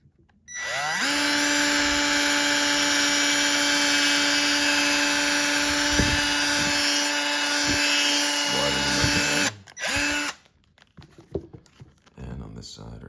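Power drill boring a rivet hole near the heel of a shoe, a loud steady whine that spins up, runs for about eight seconds and then winds down, followed by a shorter burst and some handling noises.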